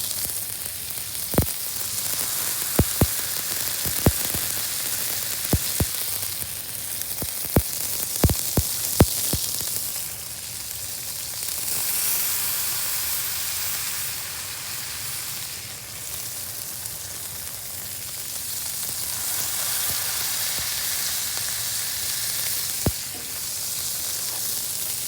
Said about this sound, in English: so we hear a little extra sizzle from the rain